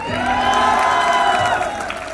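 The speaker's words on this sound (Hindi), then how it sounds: "रुकनी नहीं चाहिए तालियों की गड़गड़ाहट" A crowd at a poetry gathering claps and cheers loudly, with whoops and shouting over a brief burst of steady applause.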